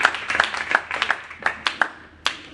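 A congregation at a full gospel church service claps in praise: a quick run of sharp, fairly close handclaps, slightly irregular and then thinning out, with no voices.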